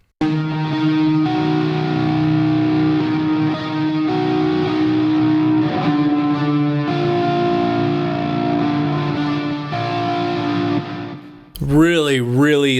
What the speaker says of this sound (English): it's got a long reverb and delay on it with some pretty heavy distortion.